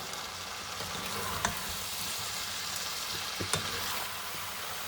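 Spaghetti for a chicken spaghetti dish being stirred and mixed in a hot pan, a steady close sizzle and frying hiss throughout with a couple of faint utensil knocks against the pan.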